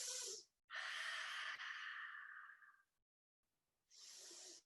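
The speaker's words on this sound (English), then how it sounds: "Take a few breaths here." Slow, deep breathing during a gentle yoga side stretch: a long airy inhale and exhale, a pause of silence, then another breath, close and alone.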